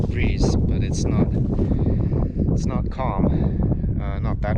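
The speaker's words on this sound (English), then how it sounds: "It's going to blow right in the microphone. It's pretty windy" Strong gusts buffet the microphone outdoors on a breezy day, a steady loud rumbling roar that covers the whole clip with faint voices mixed in.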